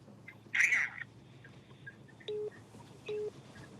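A telephone rings with an incoming call in a busy campaign headquarters: two short electronic ring bursts, a fairly quiet pair spaced under a second apart, with a brief faint voice just before them.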